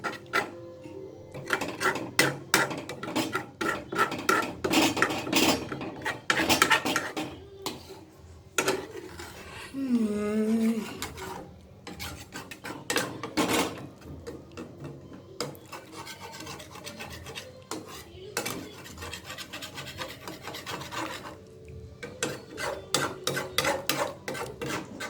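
Milk sweet (palakova) cooks in a pan while being scraped and scrubbed from all directions, with bursts of harsh rasping strokes, brief pauses and a few faint background sounds.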